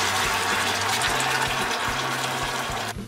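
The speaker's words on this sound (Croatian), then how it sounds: "I sada ulijevam litru vode." A litre of water pours into golden melted sugar in a pot for homemade cough syrup, a loud continuous gushing splash that runs steadily for about three seconds before cutting off.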